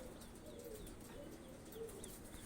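White pigeons give soft, repeated low coos in a steady rhythm, faint and close by with no talking.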